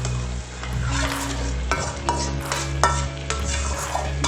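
Chicken tipped into a frying tomato gravy and stirred, loud close sizzling with repeated scraping strokes and clanks of a spoon against the pan.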